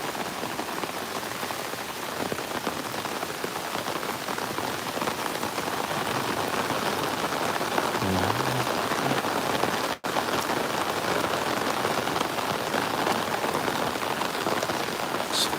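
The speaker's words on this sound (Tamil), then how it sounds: "சரியான மழை" Heavy rain pours steadily and loudly outdoors during a Diwali-season downpour, with floodwater running nearby; a dense, continuous hiss without pause, a faint low rumble near the middle, and no talking.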